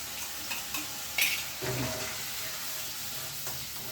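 Ground spice paste with turmeric fries in a kadai for pabda fish curry as a spoon stirs it, a quiet sizzle punctuated by a few scraping knocks and one brighter clink, close by with no talk.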